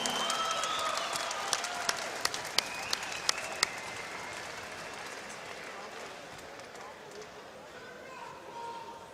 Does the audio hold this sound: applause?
yes